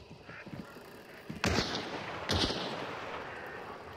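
Two sharp gunshots ring out some distance away, one at about a second and a half and another just under a second later, each with a short echoing tail over a quiet background.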